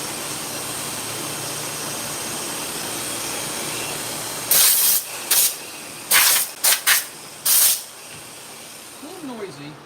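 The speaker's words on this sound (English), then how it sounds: "I couldn't hear it with the air compressor running." An air compressor runs in a clipper blade sharpening shop, a steady broadband drone throughout, cut through midway by several loud, short bursts of hissing air.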